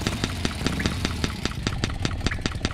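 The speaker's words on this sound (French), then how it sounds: "J'utilise pas le kick parce que le moteur est déjà en marche." A motorcycle engine idles steadily in the Full Throttle video game, a rapid, even pulse of low throbbing firing beats with no other sounds.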